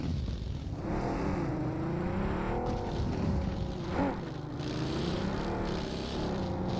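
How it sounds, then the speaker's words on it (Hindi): A vehicle drives in the BGMI battle royale game, its engine note revving and shifting pitch continuously, with a brief louder surge midway, at moderate level under the game's background sound. "मैं गाड़ी लेकर आ रहा हूँ।"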